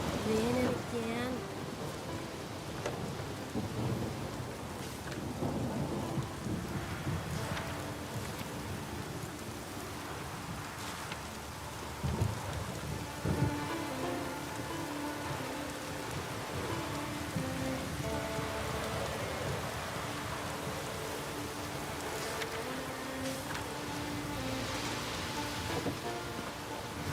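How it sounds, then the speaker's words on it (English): Steady rainfall pattering on surfaces in The Witcher 3 game world, with low rumbles of thunder rolling beneath it throughout, continuous and fairly loud, while a person talks over it now and then. "Raining again."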